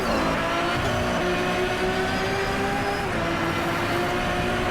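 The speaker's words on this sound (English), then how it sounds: "The sound of the Zonda is terrifying." A Pagani Zonda's engine roars steadily at high revs while racing in Driveclub, a loud, continuous droning wail with a slight pitch shift partway through, heard alone without talk.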